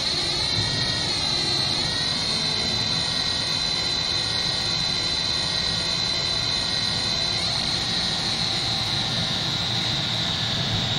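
Airplane engines running in a flight simulation game, heard as a steady, loud jet whine and roar with a rising tonal hum that holds evenly throughout, no talking.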